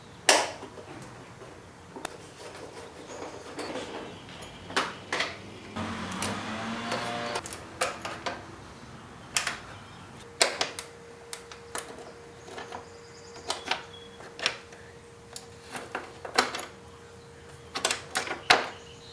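Plastic fairing clips pop off a Yamaha FJ-09/Tracer 900 during fuel tank removal: sharp, close clicks and snaps come in irregular bursts over a quiet background.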